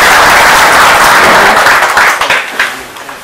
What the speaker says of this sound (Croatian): Molim da veliki aplauz, dame i gospodo.